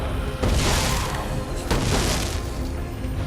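Gunfire from the video game Dead Rising 4 comes as loud, heavy blasts over a constant dense game soundscape, with two strong bursts close together.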